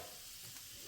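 Garlic sizzles in hot oil in a pan, a steady close hiss of frying that holds for the whole moment.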